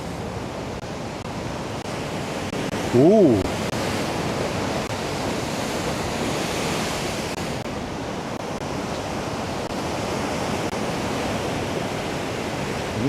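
Ocean surf washes up onto the shore in a steady, loud rush of breaking water with wind buffeting the microphone, and a short vocal exclamation cuts through briefly.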